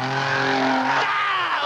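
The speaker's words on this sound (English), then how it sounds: "It's called drifting." A car drifting on Tokyo streets, engine roaring loudly with a sustained, wavering tire squeal and skid that carries through the short burst, no voices heard.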